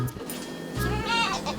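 Goats on a farm bleat nearby in short, wavering calls, with a low hum and some background noise underneath.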